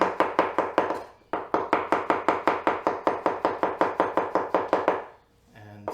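A knife chops mushrooms on a cutting board in quick, regular thuds, about twenty close crisp strikes with a short pause near the start, ending in a faint scrape.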